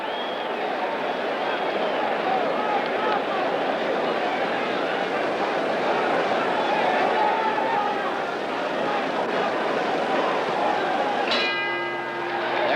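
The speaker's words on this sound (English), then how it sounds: "The bell ending round 11." A boxing ring bell rings near the end to close round 11 of a 1965 heavyweight fight in New York, a bright clang rising out of a loud, steady arena crowd roar.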